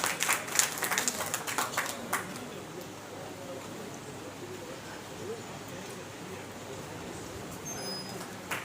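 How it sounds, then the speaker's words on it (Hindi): Loud welcoming applause at a Congress party gathering in Marwar bursts out for a couple of seconds, then tapers off into a quieter outdoor murmur with faint bird cooing in the background. "जोरदार ताली से स्वागत।"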